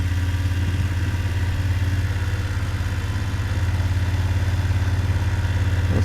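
A motorcycle engine runs low and steady at about 6 mph through a slow left-hand U-turn, a loud close idle-like rumble with a faint rhythmic pulse and no voices.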